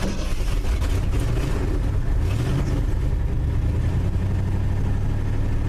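Old pickup truck engine, a '96 Tahoe, '97 F150 or '74 F250, cold-starting and running loud and steady with a rough low rumble and brief rising revs, close by with no voices.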